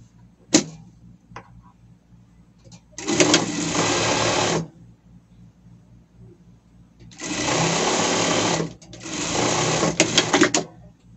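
A domestic sewing machine stitches a seam on a pet Santa costume in three sustained, close runs of rapid whirring, separated by quiet pauses with faint handling clicks.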